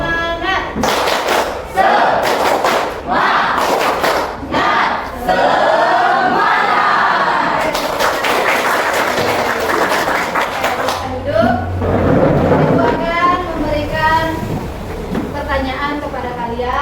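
A group of students doing a rhythmic spirit clap in a classroom, bursts of loud unison claps in patterned sequences with thumps and shouted voices between them.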